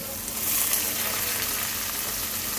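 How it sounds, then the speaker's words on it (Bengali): Chopped onions and green chillies sizzle steadily in hot oil with cumin and a bay leaf, a continuous close frying hiss for Tengra fish do-peyaza, with no talk. "পেঁয়াজটাকে একটু সুন্দর করে ভেজে নেব।"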